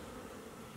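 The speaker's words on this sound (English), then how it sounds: "Bees are active" Bees buzzing around echinacea plants in a garden, a steady low hum close by, brief and alone.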